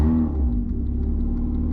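A car engine hums and revs steadily at close range, giving a continuous low rumble with a slight rise in pitch and no voices over it.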